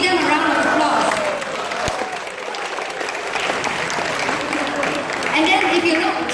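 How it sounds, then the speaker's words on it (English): Residents at a Malaysia Day community celebration clap for a gold-medal dance troupe, loud continuous applause with a faint murmur of voices mixed in. "So give them a round of applause."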